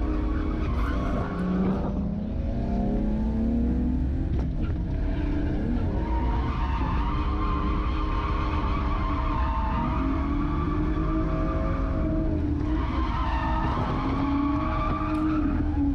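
A race car skids around a track, with long tire squeals rising and falling over a loud, steady engine roar. It stays close throughout and no voices are heard.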